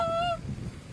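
Geese honk during a hunt, a short burst of calls from a flock that fades after a moment, leaving low outdoor rumble.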